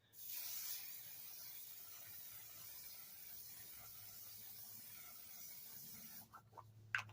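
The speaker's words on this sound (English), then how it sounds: "For my spray, I have the one size from Patrick Star" Patrick Star setting spray from a small bottle, giving a close, loud hissing burst for about a second that then trails into a softer, steady spray hiss before fading near the end.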